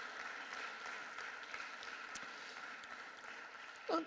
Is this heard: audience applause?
yes